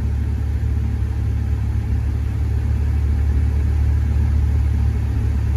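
A Honda Civic EK4 engine idles with the air conditioning switched on, giving a steady, close, low rumble that holds an even level throughout with no talking.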